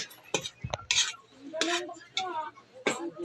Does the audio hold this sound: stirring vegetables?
yes